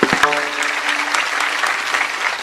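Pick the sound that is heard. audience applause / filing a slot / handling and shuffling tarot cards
audience applause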